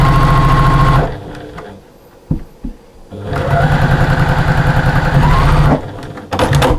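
Sewing machine running stitches up the side of a fabric storage caddy: a loud, close mechanical whirr in bursts, stopping briefly, a few clicks and knocks, then a longer run and a short final burst.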